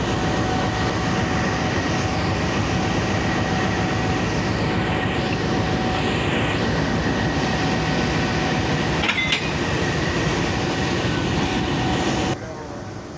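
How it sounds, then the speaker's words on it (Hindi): Locomotive GU 20 4562 rumbles in steadily to couple onto the Sir Syed Express at Faisalabad railway station, a loud continuous rail and engine roar with a brief clank, no words spoken. "GU 20 4562 सर सैयद एक्सप्रेस की कपलिंग के लिए आ रहा है, यहाँ से अटैच होगा"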